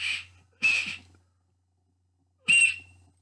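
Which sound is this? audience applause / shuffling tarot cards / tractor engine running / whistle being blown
whistle being blown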